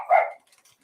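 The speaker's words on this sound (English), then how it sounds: "Those would be dogs." A single dog bark rings out at medium distance, short and sharp, followed by faint quiet noises with no talking.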